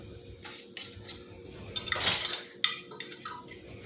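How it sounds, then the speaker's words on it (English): Metal spoon scraping the last of a meat and vegetable filling off a plate, in a few short, bright clinks and scrapes at irregular intervals, close and fairly quiet with no talk. "I'm going to use this spoon to help me get it off the plate."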